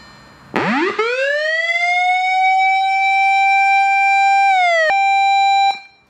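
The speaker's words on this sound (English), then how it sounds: "That's a bell, and this one's a siren." A siren from an imported vintage Japanese police car light unit winds up from a low growl to a loud, steady wail, drops in pitch briefly near the end, then cuts off abruptly.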